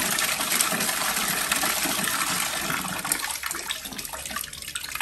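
Water gushes steadily from a tap at roughly 20 litres a minute, a loud, continuous rushing close by that eases slightly toward the end, with no talking.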